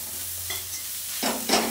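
Food frying in a pan for fried rice, a soft sizzle in the background broken by a few close scraping stirs near the end.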